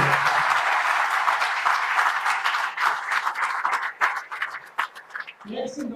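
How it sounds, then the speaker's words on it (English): Applause from the audience at the inauguration ceremony of a national ophthalmology conference, steady clapping that thins and becomes patchier toward the end, with a voice starting at the close. "Kindly give a big clap for his presence here."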